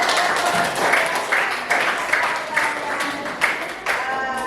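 A classroom audience applauding a student group after their presentation: a steady stretch of many hands clapping at close range, with short bursts of louder claps and voices mixed in.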